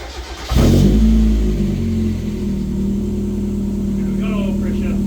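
A Mazda Miata's 1.6-litre four-cylinder catches and revs up sharply, then settles into a steady idle, close and loud, with a voice speaking briefly near the end.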